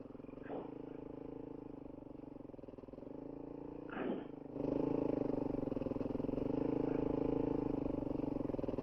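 XR600R motorcycle riding off-road in first gear on a rough track in Kenya, a steady low engine drone with two short bursts, then a louder, fuller roar as the rider opens the throttle.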